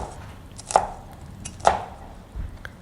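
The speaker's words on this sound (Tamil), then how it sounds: "இப்படியே பஞ்சாக ஒரு கொத்தாக எடுத்து கட் பண்ணி சின்ன சின்னதாக கட் பண்ணிக்கோங்க" Banana flower (vazhaipoo) being chopped into small pieces on a board: three crisp knife chops land about a second apart, close and fairly loud, with no talking.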